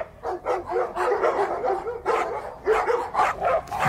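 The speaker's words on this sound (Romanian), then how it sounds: "Fii sincer, Raul, nu ți se pare că parcă nici maidanezii nu mai latră cum lătrau odată?" Stray dogs bark in a series of short, repeated yelps and yips, fairly close and loud, coming in quick bursts with brief gaps between them and no talk over them.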